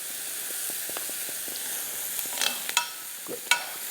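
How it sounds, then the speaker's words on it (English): Onions fry in a pan with a steady low sizzle and hiss, broken by a few sharp crackles and pops toward the end, close and moderately quiet with no voices. "fry these onions and give them a little bit color"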